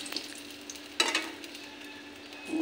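A bay leaf drops into hot oil in a pan and sizzles, with a sharp crackling burst near the start. Softer frying hiss and stirring scrapes follow close up.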